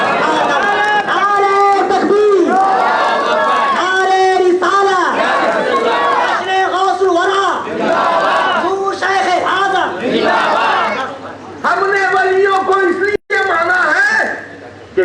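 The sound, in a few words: crowd shouting Allahu Akbar in response to Nara-e-Takbir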